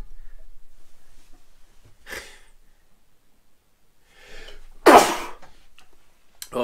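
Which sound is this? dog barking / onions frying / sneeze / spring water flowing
sneeze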